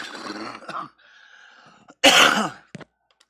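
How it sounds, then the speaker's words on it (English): A person coughs and clears their throat, with a short rough rasp, then a loud burst of coughing up close. "yeah, I still have a cough."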